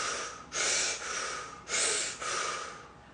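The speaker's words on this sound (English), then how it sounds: "And then I'm going to activate that with 3 sharp breaths." Three sharp, forceful breaths come in quick succession, each a short airy rush through the nose, close and fairly loud with no talking.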